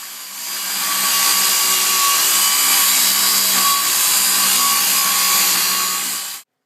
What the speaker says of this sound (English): What I do is hold it in a vise and cut the other cup off with the angle grinder.